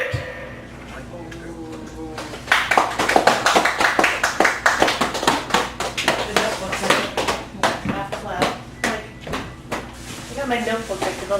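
An audience at a Chicago café poetry open mic claps after a reading, with dense applause building and fading while voices talk over it.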